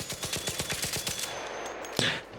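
Rattler gun in ARC Raiders firing a rapid burst of about a dozen evenly spaced shots, close and punchy, then a short pause and a sharp single crack.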